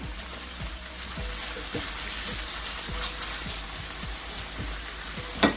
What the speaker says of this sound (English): I'm just tossing this right in here and letting this fry up